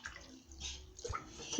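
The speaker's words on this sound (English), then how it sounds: "just going to put in the water." Heated water is poured into a whipped carrot cake mixture, giving a short, soft splashing and trickling pour with a couple of small drips near the end, close up and without talking.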